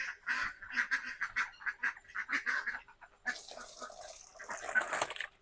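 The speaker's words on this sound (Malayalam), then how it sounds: "താറാവാക്ക് തിന്നാൻ കൊടുക്കുന്ന സമയം വൈകിട്ടേ താറാവുകൾ ഇങ്ങനെ ആകെ പറ പരക്കം പോയിന്ന്" Several ducks quack in busy, overlapping bursts at evening feeding time, nearby and lively, with a noisier rustling stretch toward the end.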